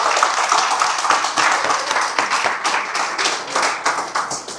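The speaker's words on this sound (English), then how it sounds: "Can we get one more round of applause for all of our candidates who spoke here" A town hall crowd at a recall election gathering claps loudly and continuously, a busy, close rattle of many hands with no voices over it.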